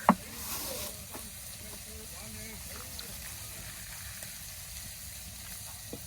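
Dried fish frying in hot oil in a Bangladeshi village kitchen gives a steady, quiet sizzle with occasional stirring scrapes throughout.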